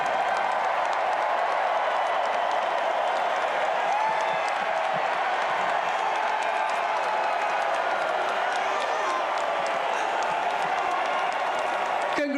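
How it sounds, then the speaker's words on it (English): Seattle Seahawks fans, the 12s, roar and applaud after their Super Bowl win over the New England Patriots, a dense, steady wall of crowd cheering and clapping that holds throughout. "I don't think the 12s will ever stop cheering"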